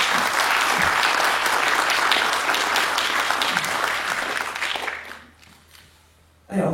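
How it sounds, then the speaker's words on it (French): A large alumni gathering on the AgroParisTech campus in Palaiseau breaks into loud, sustained applause that thins and fades away over the last seconds. "Un tonnerre d'applaudissements pour l'équipe d'AgroParisTech Alumni"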